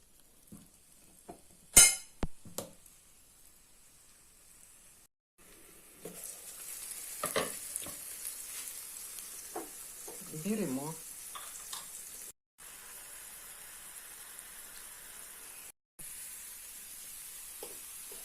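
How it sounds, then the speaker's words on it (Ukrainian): A few sharp clinks and taps open, then pears frying in butter in a pan give a soft, steady sizzle, quiet and close, with occasional light knocks. "Смажимо так, смажимо груші."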